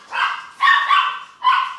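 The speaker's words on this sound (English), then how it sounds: "Dogs are barking." Dogs barking indoors, three loud close barks in quick succession with short gaps, the last one ending in a sharp high yelp.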